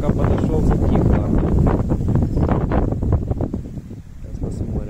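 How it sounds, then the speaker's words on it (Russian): Strong, steady wind buffets the microphone while fishing with a float rod, a dense roar that fills the whole stretch up close with no pauses. "Еще очень сильный ветер."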